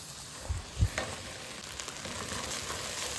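Tomato with ginger-garlic paste frying in oil for a village-style chicken dish, a soft steady sizzle with a couple of low thuds from stirring early on, fairly quiet with no talk.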